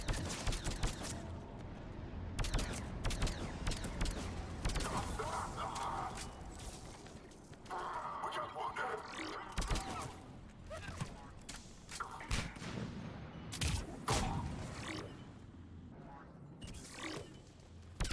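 Bursts of gunfire in the Mass Effect video game come in irregular clusters of sharp shots, with quieter gaps and battle noise between them, while voices talk over parts of the fight.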